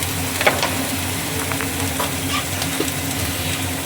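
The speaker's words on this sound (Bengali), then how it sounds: "এর মধ্যে শিমলা মির্চ দিয়ে এটাকে একটু ভাজবো, হালকা মতন নাড়াচাড়া করছি।" Capsicum and potato pieces for chilli potato fry steadily in a pan with a constant sizzle, while a utensil stirs them with soft scraping and clinks close by.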